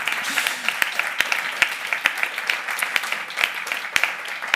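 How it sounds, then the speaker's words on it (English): A conference audience applauds the organizing team of a regenerative tourism event, a dense, steady wash of clapping from many hands in a large room, with a few sharper claps standing out. "I would like to ask an applause for the organizing team"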